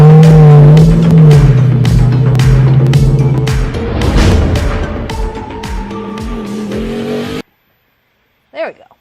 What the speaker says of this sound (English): the engine sounds great on that thing